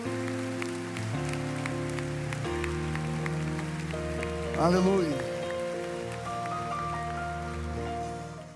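Steady crowd applause at a church service, like a soft patter of rain, rises under sustained music while a voice briefly calls out.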